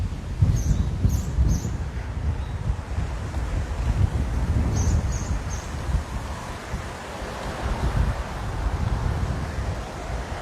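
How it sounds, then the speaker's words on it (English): Steady breezy wind buffets the microphone outdoors in Waikiki, Oahu, near the Queen Kapiolani Hotel, a constant low rumble with gusts and faint surf-like wash throughout. "is it breezy today or what?"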